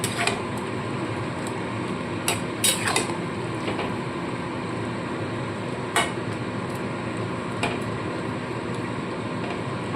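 Chicken pakoras being stirred into bubbling chili chicken gravy, with scattered metallic clinks and scrapes of a spoon against the pot over steady simmering noise.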